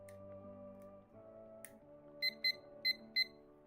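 A timer being set gives four short, sharp electronic beeps in quick succession, evenly spaced, over soft background music with a few faint clicks before.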